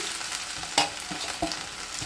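Oil sizzles steadily as gongura greens are stirred in a pan, with a few sharp clinks and scrapes of a utensil against the pan.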